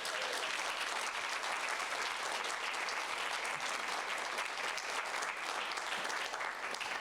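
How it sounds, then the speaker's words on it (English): An audience gives sustained applause for a panel at a seed-breeding talk, a dense, loud and steady clapping that lasts the whole time without a break. "Can we get one more round of applause for the panel?"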